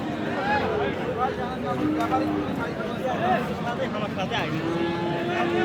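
Cattle mooing repeatedly amid a busy cattle-market crowd murmur, with several long low calls from cows nearby over steady background chatter.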